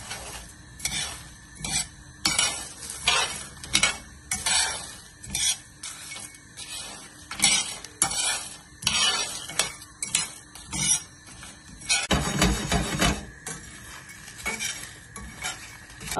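Whole spices, bay leaves and a handful of red chillies dry-roasting in a pan for homemade biryani masala, a utensil scraping and stirring in quick repeated strokes with light clinks and a soft sizzle, close and alone.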